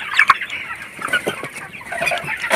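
Broiler chickens in a poultry farm shed, a cluster of birds clucking and chirping in irregular bursts at close range, with no talking.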